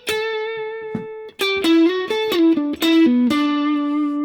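An electric guitar plays a short melodic lick: a long sustained note, then a quick run of bent and sliding notes, loud and up close.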